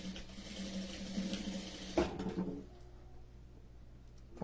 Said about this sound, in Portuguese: Eu já passo uma costurinha de segurança, tá?